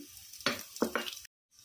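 Dried red chilies and lentils crackle in hot oil for a gongura pulihora tempering, with two short bursts of sizzling and stirring, then a brief silence before a faint hiss returns.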